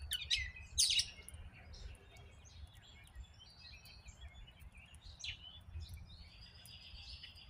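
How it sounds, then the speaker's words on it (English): Birds chirp and sing in a quiet backyard camping spot, with several short, bright calls scattered over a low background hum, fairly faint and near. "Oh, the birds are going crazy."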